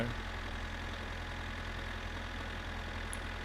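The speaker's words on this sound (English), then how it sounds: "it's gonna be slow because it's a tractor" Low, steady engine drone of a tractor in My Summer Car, running at slow speed in low gear, a constant rumble with no break and no talk over it.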